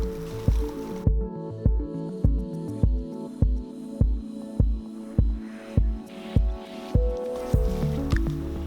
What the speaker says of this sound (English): we're going to squeeze the rest out.